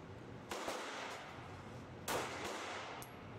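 A Glock handgun fitted with a 50-round drum magazine fires at a range, with a few distinct shots spaced about a second or more apart over steady ambient noise, the loudest partway through.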